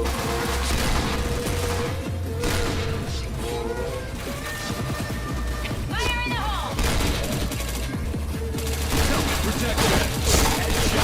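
Rapid bursts of gunfire from a shooter video game, loud and continuous with overlapping shots, crashes and in-game effects throughout, while a player talks over the action.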